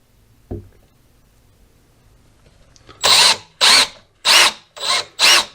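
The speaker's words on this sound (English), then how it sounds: "just drill this 1/4 hole" A power drill boring a 1/4 inch hole in a homemade automotive smoke machine, heard as five loud, evenly spaced bursts of whining drilling, each about half a second long, after a quiet stretch with one faint knock.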